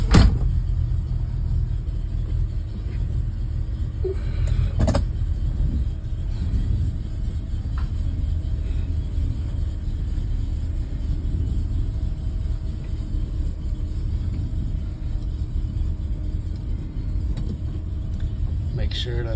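A car with an old engine and a chugging cam rumbles as it is driven out, a steady low engine drone close by with a few faint knocks and clicks.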